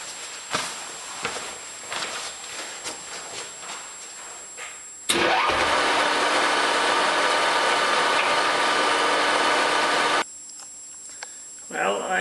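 An American Pacemaker lathe motor kicks in suddenly as the clutch engages, roaring steadily and loudly for about five seconds before cutting off, with quieter handling noises and faint voice before and after.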